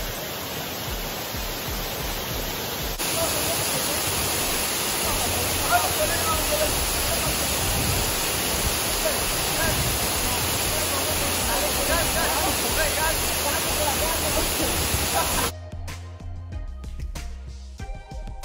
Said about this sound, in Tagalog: Sa Asik-Asik Falls and super duper nice and amazing